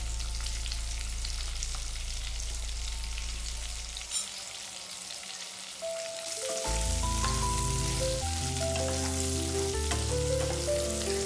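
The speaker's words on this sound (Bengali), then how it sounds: "সজনে ডাটাগুলো হালকা ভাজা হয়ে গেছে এবারে নামিয়ে নেব" Moringa drumsticks fry in oil with turmeric, giving a steady crackling sizzle that runs throughout; after a brief dip, background music joins and plays over the frying for the second half.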